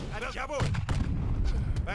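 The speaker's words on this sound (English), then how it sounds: "Engage cannons." Cannon fire in a multiplayer battle of the strategy game Age of Empires III, heavy booming blasts rolling one after another, with a player talking excitedly over the start and a dense rumble of battle underneath.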